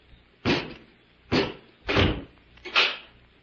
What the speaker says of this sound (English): close the door and bolt it